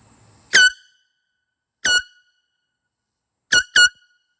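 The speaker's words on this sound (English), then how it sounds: "I'm testing my air horn." Four loud air horn blasts stand alone against silence: a single blast, a second after a pause, then a quick closing pair of short honks.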